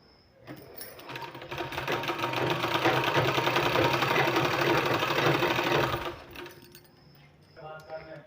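A sewing machine runs steadily for about five seconds while stitching a fabric sleeve, a fast continuous mechanical whir that starts and stops cleanly, with quiet handling sounds before and after.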